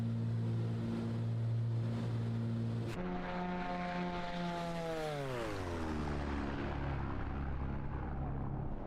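A Beechcraft BE58 Baron twin piston-engine aircraft flies over Patagonia with a steady propeller drone. Midway the engine tones slide downward as power is reduced, and the hum settles lower and continues.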